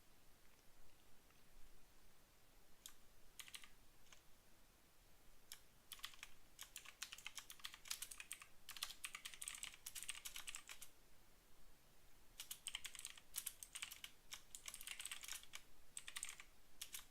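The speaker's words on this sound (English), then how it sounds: "Hold on, because I'm typing something up." A computer keyboard is typed on during a live NQ and ES futures day-trading session: soft, close, irregular clicking comes in scattered bursts over a quiet room background.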